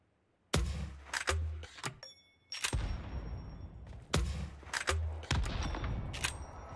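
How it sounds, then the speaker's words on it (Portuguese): A bombardment landing in PUBG Mobile, with a series of loud, sharp blasts and rapid crackling impacts in several bursts across the clip. Some strikes hit close together and the barrage keeps rumbling underneath between them. "Ó, bombardeio caindo aqui"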